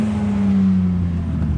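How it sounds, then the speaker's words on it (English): A BMW E36 six-cylinder engine revs smoothly, a loud close steady drone that rises briefly and then eases off, with no speech. "Honestly love the way that the BMW 6-cylinder sounds. It just has such a smooth rev."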